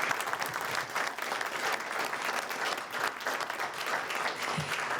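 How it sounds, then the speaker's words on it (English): Audience applause for school board candidates at a candidate forum in a library, steady dense clapping filling the room throughout with no pause. "can we give an applause to all of these candidates and thank them today?"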